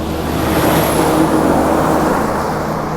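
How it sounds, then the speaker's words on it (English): Heavy road traffic with trucks rolling past on a road through Da Nang, Vietnam: a steady, loud broadband roar of engines and tyres that holds without a break, with a faint high whine riding over it. "lots of trucks here in this section"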